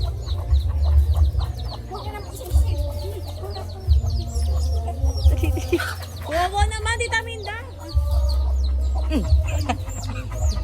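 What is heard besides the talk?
chicken clucking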